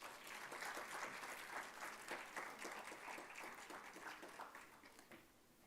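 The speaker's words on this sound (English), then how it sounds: "Can we please have a huge round of applause?" Sustained applause from a conference audience at a media conclave on a university campus in Bengaluru, steady and dense throughout before easing slightly near the end.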